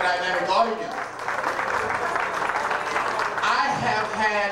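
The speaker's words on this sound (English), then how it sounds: "Give yourself a round of applause for being a dynamic audience." At the preliminary night of the Miss Gay USofA at Large 2002 pageant in Winston-Salem, North Carolina, a crowd's applause and cheering rises in the middle while a voice talks over the start and end.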